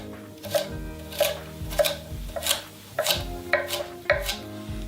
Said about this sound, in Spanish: ahora vamos a ir picando en cuadrados